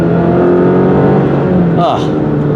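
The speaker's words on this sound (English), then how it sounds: "Just listen to that engine." A car engine in an Alfa Romeo Giulia sports sedan hums steadily at a constant pitch, close and loud, with a brief shift in the sound near the end, heard from inside the cabin.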